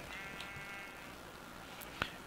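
Minecraft sheep on a community sheep farm in a video game bleat faintly over a steady background hiss, with one brief, sharper bleat near the end.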